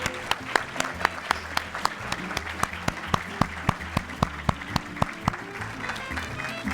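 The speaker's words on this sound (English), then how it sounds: "let's give a round of applause to the Edgewater High School Ensemble" School reception audience applauding the Edgewater High School Ensemble at a heritage celebration, steady clapping with a few sharp, prominent claps punctuating it, plus a low hum beneath.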